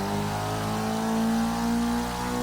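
A Dodge SRT-4 built for AWD drag racing revs hard at launch in Forza 6, a loud steady engine drone with a strong whining tone that rises slightly and holds.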